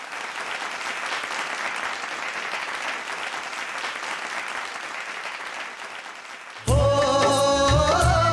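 Steady, dense audience applause at a live singing show fills about six seconds before music with a band comes in loudly and takes over.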